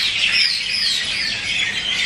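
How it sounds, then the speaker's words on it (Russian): Evening birds cry and chirp in repeated shrill calls, several overlapping at moderate distance, over a soft steady background with no talking. "Но вы только послушайте, как кричат птицы."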